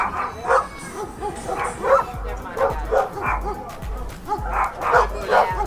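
A shepherd dog, found in a burned-out house while guarding her newborn puppies, barks in repeated yips and whimpers close by, with a steady rhythm of short calls throughout.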